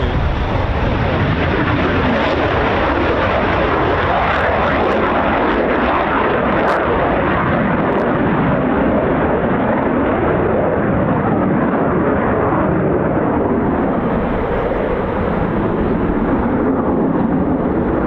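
Eurofighter Typhoon FGR4 jet at RAF Coningsby, a loud sustained broadband engine roar that holds steady and close for the whole stretch with no voices.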